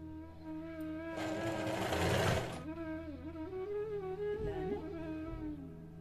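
A sewing machine stitches a lined blouse jacket, its motor whirring in a steady run that swells loudly for about a second and a half before easing off, with a low hum continuing underneath.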